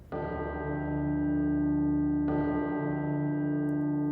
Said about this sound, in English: the chimes of a neighbouring church struck the 4 quarters